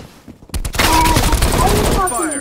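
Loud, close bursts of automatic gunfire in the video game Call of Duty Cold War, a dense rapid volley starting after a brief quiet moment and continuing to the end, with a voice faintly mixed in.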